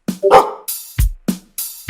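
A person imitates a dog with a few short, sharp barks in a quick uneven series, loud and close, with no talk alongside.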